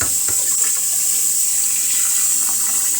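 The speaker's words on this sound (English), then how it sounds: "I wash my rice so that it will not be mushy" Rice being rinsed under running tap water in a sink to wash off its starch, a steady close splashing stream that continues without pause throughout.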